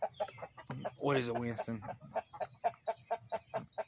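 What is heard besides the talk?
chickens clucking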